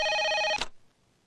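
A telephone in a Telugu film scene gives a short, clear electronic ring lasting about half a second, cut off abruptly by a click and followed by near silence.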